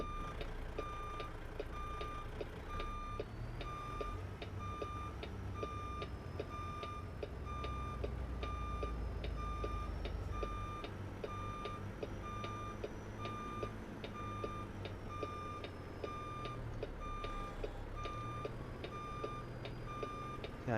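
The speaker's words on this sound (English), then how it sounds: "It was a loud semi rumbling here in the parking lot." A semi truck's reversing alarm beeps in an even, steady rhythm over a low diesel idle rumble in a lodge parking lot in a trucking simulation game, with no talk.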